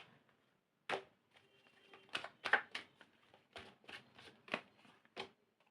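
Tarot cards are shuffled and drawn during a reading, giving soft close riffles and snaps in irregular bursts, quiet against near silence.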